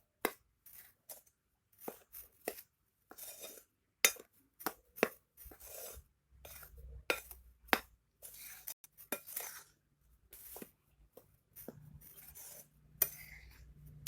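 A utensil stirs pancake batter with baking powder and salt in a bowl, giving a quiet run of irregular clinks and scrapes against the bowl, some quick and sharp, others softer and dragging.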